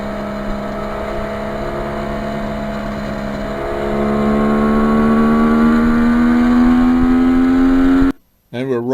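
A restored 1973 Kawasaki H1 two-stroke triple motorcycle on a test ride, its engine note held steady and then climbing as it pulls harder, loud and close, before cutting off abruptly near the end.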